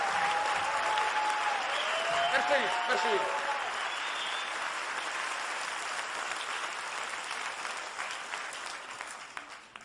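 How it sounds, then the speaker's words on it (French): A crowd claps steadily and densely through the whole stretch, fading slightly toward the end, while someone speaks over the applause at the start. "Merci pour le vous applaudissez."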